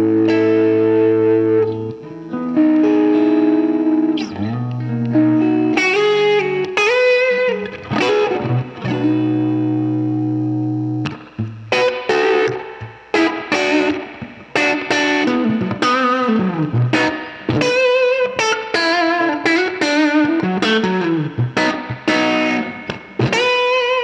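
A 1952 Telecaster electric guitar through a 1999 Kendrick-built Trainwreck Climax 2x10 amp, driven and slightly gritty, playing loud chords and single-note phrases with sustained notes and brief pauses, no voices.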